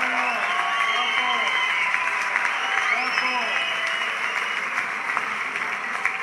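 A crowd at a charity fundraising event applauds the next solidarity ambassador with sustained, even clapping, a few brief cheers and voices rising faintly within it.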